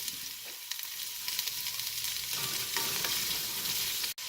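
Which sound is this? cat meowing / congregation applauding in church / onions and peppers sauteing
onions and peppers sauteing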